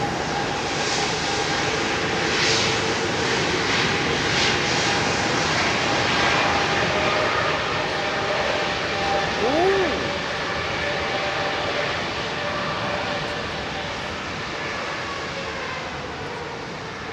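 A jet airliner's engines roar at takeoff thrust at London Heathrow, a loud, broad, steady rush that stays up close throughout, with cockpit voices faintly underneath.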